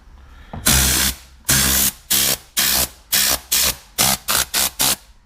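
A Tornador air blower fires short, loud blasts of hissing compressed air into a car interior, about ten bursts separated by brief pauses, the later ones coming faster and shorter.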